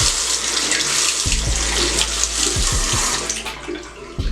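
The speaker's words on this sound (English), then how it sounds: "Just turn on the water." A tap fitted with a faucet aerator runs water into a sink in a steady, close hiss, broken by several low thumps and clunks as hands or objects move under the stream.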